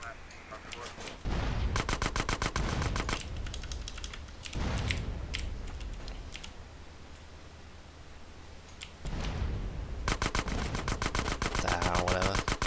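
Rapid bursts of automatic gunfire in GTA San Andreas, loud and close, coming in several long rattling volleys with quieter game sound between them.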